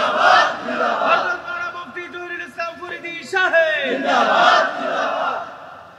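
A sermon crowd shouts the takbir response Allahu Akbar in loud, unison bursts, several swelling chants answering a preacher at a religious gathering.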